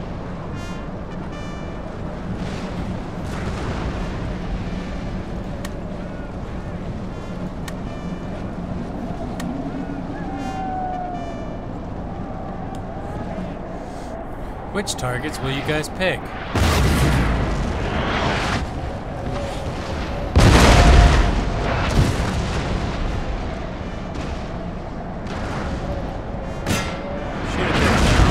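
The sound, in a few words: cannon artillery fire in Napoleon: Total War video game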